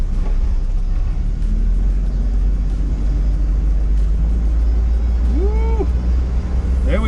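A 1969 Chevy Van engine rumbles loud and steady while driving around the block, with deep, continuous road and engine drone and a brief squealing brake sound near the end.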